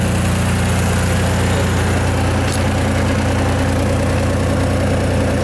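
A Ford 3000 tractor engine idles steadily at close range, a low, even diesel rumble with constant vibration that holds unchanged throughout, with no voices.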